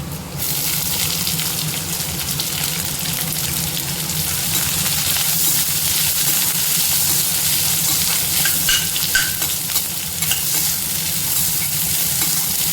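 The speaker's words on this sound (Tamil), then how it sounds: "வெங்காயம் ஓரளவுக்கு வதங்கிருச்சு" Onions sauté with ginger and garlic in hot oil for egg Manchurian, a loud, close, unbroken sizzle laced with stirring scrapes and crackles, heard alone without speech.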